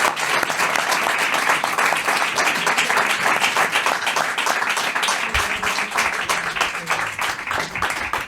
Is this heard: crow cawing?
no